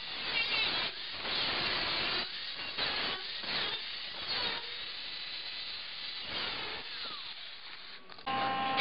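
A cutoff disc slices a slit through the body metal of a 1973 Toyota Celica, a loud, close, harsh grinding hiss in repeated bursts with short pauses between passes.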